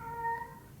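A cat gives a single short, faint meow, a thin tonal cry against a quiet background.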